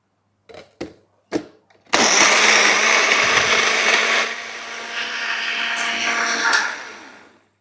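A blender whirs loudly and steadily, mixing soaked pitted dates, homemade protein powder and milk into a milkshake, its motor note shifting partway through after a few short knocks at the start.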